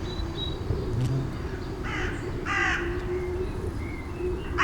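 Crow cawing in the open, several harsh caws in short bursts over a steady low background hum, moderately near and clear.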